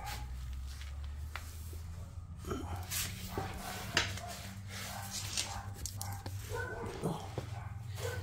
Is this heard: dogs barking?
yes